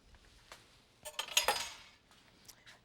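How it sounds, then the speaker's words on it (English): Four large eggs are lightly whisked in a bowl to break up the yolks, giving a short, quiet run of clinking metal strokes against the bowl in an otherwise quiet kitchen. "we're just going to lightly whisk those to break up those yolks"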